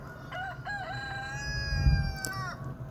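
A rooster among free-range chickens on a hillside crows once, a clear, fairly close wavering call lasting about two seconds, over a low background rumble and a brief soft thump.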